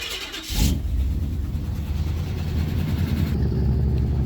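A stock TBI 454 V8 in a plow truck cranks and fires up after a brief quiet moment, then settles into a loud, steady, rumbling run close by, with no talking.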